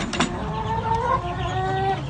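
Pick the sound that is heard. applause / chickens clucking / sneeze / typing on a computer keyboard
chickens clucking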